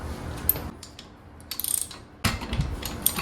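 A 15/16 socket ratchet turns the propeller nut on a Mercury 60 HP four-stroke outboard, giving short clicking ratchet strokes and metallic clatter, near and fairly quiet, in brief separate bursts.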